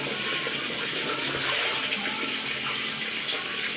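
Water runs and splashes steadily during hand-washing of laundry, a continuous close hiss of flowing water at even loudness, with no voices.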